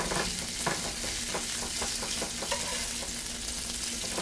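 Pancetta fries in a pan with a constant close sizzle and spatter, broken by occasional scraping stirs, with no talking over it.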